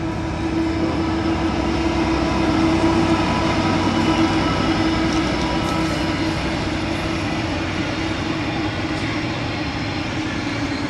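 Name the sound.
freight train passing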